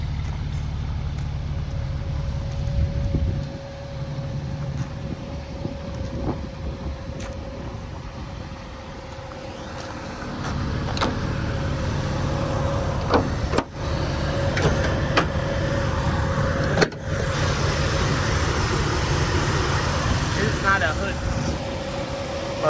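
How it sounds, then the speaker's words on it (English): The 4.0L engine of a 2002 Jeep Wrangler 4WD runs at a steady idle with a constant low hum throughout, and a voice talks over it now and then. "Motor sounds nice and healthy."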